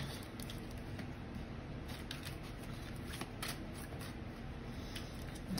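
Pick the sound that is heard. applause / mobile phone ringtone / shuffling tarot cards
shuffling tarot cards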